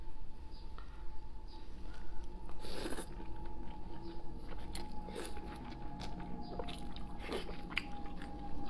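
Close, quiet chewing and soft biting of spicy pork brain cooked in hotpot base, with occasional wet squishes and small crunchy bites over a low background hum, no talking.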